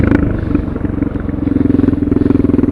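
A tuned Suzuki DR650 motorcycle with a Procycle jet kit thumps close and loud in a steady, rapid low pulse, its rhythm slightly uneven at first before settling into an even beat.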